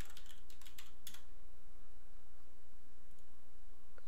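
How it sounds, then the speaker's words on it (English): A computer keyboard types a short word, a rapid run of light clicks in the first second, then a steady hiss of background noise. "So let's type in vertical"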